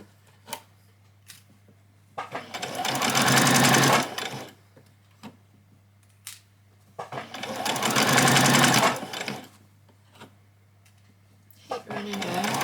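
A sewing machine stitches fabric for a child's dress in two loud, sustained runs of several seconds each, separated by quiet gaps with small clicks and handling sounds nearby.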